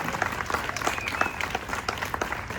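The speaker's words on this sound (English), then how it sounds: "Please, a round of applause for Belle and her family." A crowd at a charity walk kickoff event applauding steadily, many hands clapping at once in a continuous patter, moderately loud and without speech.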